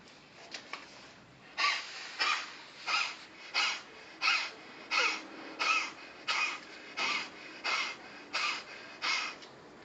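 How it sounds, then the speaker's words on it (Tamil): A steady series of quick, breathy pants done as a dog-breath yoga exercise, about a dozen evenly spaced huffs in a dog-like rhythm, close and fairly soft. "அடுத்து நாய் மூச்சு."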